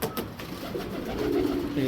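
Racing pigeons coo close by in a short, soft, throaty burst of low warbling calls that rise slightly toward the end.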